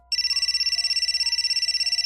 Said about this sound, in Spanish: mi teléfono sonó.